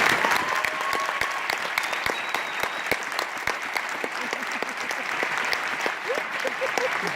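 A concert audience at a school band performance applauds steadily and warmly, sustained clapping filling the room from start to finish, with faint voices mixed underneath.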